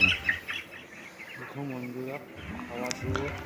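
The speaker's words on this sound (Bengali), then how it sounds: "দেখুন সঞ্জঙ্গে মুরগি খাবার খাচ্ছে।" Farm chickens gathered around freshly scattered feed, giving soft clucks and chirpy calls close by, with a few low pecking and rustling sounds against a faint background hum.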